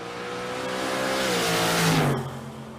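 Drag racing cars in full race mode accelerating side by side down a strip at a big-money shootout, a loud sustained engine roar rising in pitch, then cutting off abruptly as they pass.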